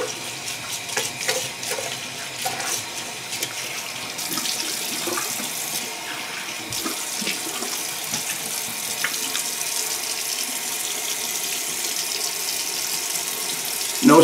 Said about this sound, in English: let's go for a cold rinse.